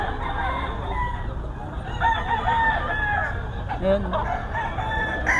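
Roosters crow and cluck on a Filipino gamefowl farm, including white kelso stags, with several calls rising over steady background noise while someone talks throughout.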